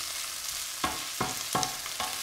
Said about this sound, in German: ganz leicht Zucchini und Tofu anbraten